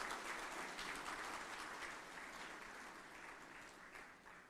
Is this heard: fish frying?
no